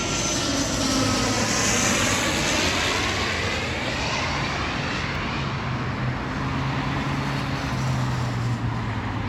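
A Loganair ATR-42-500 turboprop airliner passes close by at Heathrow, its engines giving a steady, loud, continuous drone with a droning propeller hum and a sweeping pitch shift as it moves, with no talking.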